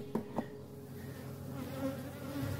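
Honeybees buzz around an opened hive during an inspection, a close, continuous droning hum with a few louder passes as bees fly near, and no talking.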